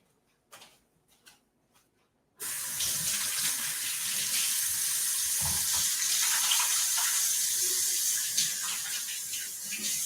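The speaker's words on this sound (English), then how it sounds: "I'm gonna go wash my hands" Hands being washed under a running kitchen tap, a few soft taps and knocks first, then a steady, close rush of water that runs on unbroken, with no talking.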